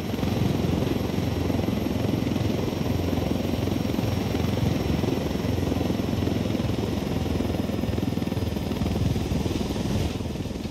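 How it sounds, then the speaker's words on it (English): A military helicopter in the Ghost Recon Wildlands video game, its rotor producing a steady, loud, dense thudding chop that continues unbroken and close for about ten seconds, with a faint high whine above. "Can leave the chopper here and the rebels can pick it up."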